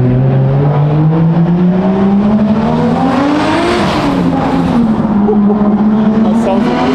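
Nissan R34 Skyline GT-T fitted with a small KKK turbo accelerating hard, the engine droning loudly as it climbs in pitch, briefly eases, then pulls again, heard from inside the car with a steady roar throughout.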